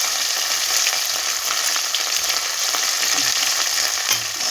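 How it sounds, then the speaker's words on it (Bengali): Bay leaf, dried red chilli and whole cumin seeds fry in hot oil, giving a loud, dense, even sizzle close up with faint stirring underneath. "এবার আমি একটু ভেজে নেব।"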